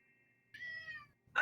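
Cat meows in the video game Edna & Harvey: The Breakout, two short, clear meows close up, separated by a brief pause, with no talk over them.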